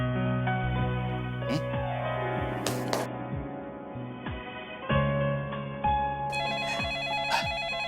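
A telephone rings with a repeating electronic ringtone, steady and fairly clear over faint background music, with a few soft taps and thunks in between.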